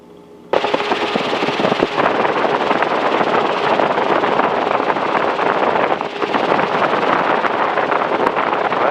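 Robinson R22 helicopter in flight, its engine and rotor making a loud, continuous rough roar with rapid chopping pulses, heard from inside the cabin without pause.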